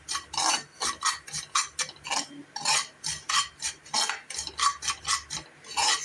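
Ragi and nuts dry roasting in a pan, stirred with a utensil that scrapes and clinks against the metal in a steady, repeated rhythm, close and moderately loud with no talking.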